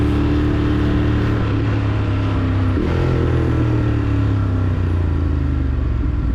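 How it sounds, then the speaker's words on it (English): A Ducati Monster 1200S rides through Midtown Manhattan traffic, its engine droning loud and close throughout, with a sudden drop and recovery in pitch partway through as the quick shifter clicks down a gear. "That's my quick shifter flipping down"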